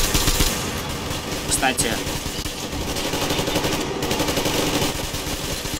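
Sustained machine gun fire in the video game Metro Exodus, a dense rattling burst running the whole stretch under ongoing gameplay noise, with someone talking briefly over it.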